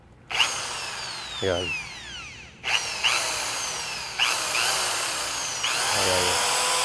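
A Makita electric drill spins up in several bursts, its motor whining and rising in pitch with each trigger pull, close and loud, while someone briefly speaks between runs.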